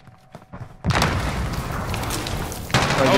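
A sudden loud boom bursts in after a quiet stretch in Call of Duty Warzone, followed by sustained roaring rumble and a second surge near the end.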